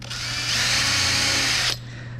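Loud and close, a power drill fitted with a nail as the bit pre-drills a pilot hole into plywood for a motor mount, whirring in one steady burst of under two seconds before cutting off; no speech.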